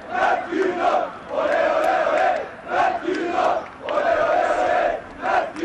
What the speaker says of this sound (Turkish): Bu arada kaleci Mert Günok için tezahüratlar.